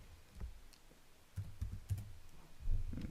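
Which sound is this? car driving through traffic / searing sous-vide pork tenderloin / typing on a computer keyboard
typing on a computer keyboard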